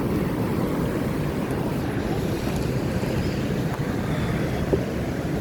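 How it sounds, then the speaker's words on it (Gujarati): Sea waves wash ashore on a beach, a steady broadband rush of surf and water with wind noise on the microphone, continuous and fairly loud throughout with no voices. "આ જો મોજા અહીંયા આવી જાય"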